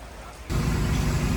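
Rain starts suddenly and keeps up a steady, dense hiss over an outdoor drift-event paddock in Indonesia, beginning after a brief quieter moment.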